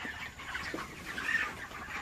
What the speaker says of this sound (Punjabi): ਇਹਨਾਂ ਨੂੰ ਦਾਣਾ ਪਾਇਆ ਤੇ ਦਾਣਾ ਦੇਖੋ ਕਿੰਨੀ ਸਪੀਡ ਨਾਲ ਕੇ ਖਾਣ